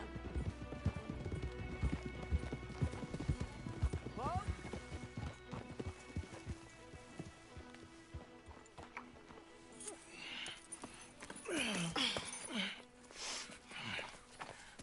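Horse hooves clip-clop steadily at a walk in a video game, with a whinny and snorting breaths later on, while a voice speaks briefly over the scene.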